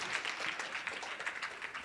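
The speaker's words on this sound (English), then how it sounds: "Give him a thunder clap." An audience at a youth summit panel discussion claps briefly to welcome the moderator, a short burst of fairly soft, scattered hand clapping.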